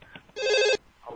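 An incoming call on a radio show brings one loud, bright burst of telephone ringing, with talk just before and after it.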